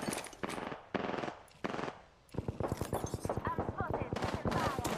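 Gunfire in the video game Apex Legends: bursts of automatic fire followed by a rapid, sustained volley, with voices talking over the shooting.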